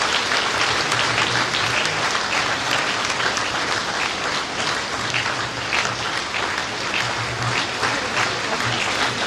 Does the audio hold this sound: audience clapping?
yes